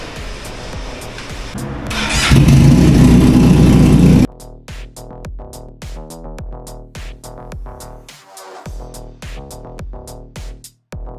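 A modified Benelli 502C motorcycle engine starts with a loud surge, then settles into a series of sharp, rhythmic throttle blips and revs close by, each burst dropping back to idle.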